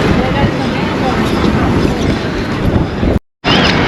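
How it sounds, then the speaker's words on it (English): Strong wind buffets the microphone on the Blackpool promenade, a loud continuous roaring rumble that briefly cuts out near the end. "it is really, really windy"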